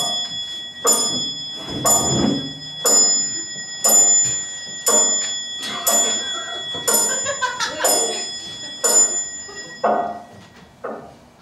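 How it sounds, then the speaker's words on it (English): A clock chimes in a slow, steady series of ringing strikes, each decaying before the next, fairly loud and alone. "Did you hear the chimes?"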